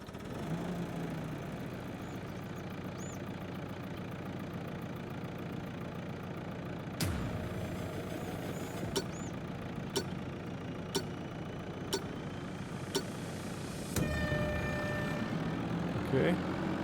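A telehandler's engine running steadily in Farming Simulator 22, a continuous mid-pitched drone with occasional clicks, growing slightly louder near the end.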